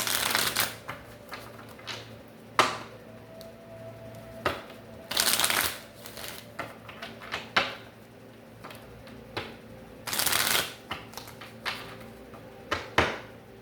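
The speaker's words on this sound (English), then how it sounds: "We're going to shuffle this 3 times and then we're going to lay it out." Tarot cards being shuffled close by, with several separate riffling bursts and soft shuffles broken up by brief pauses and light taps of the deck, heard alone without speech.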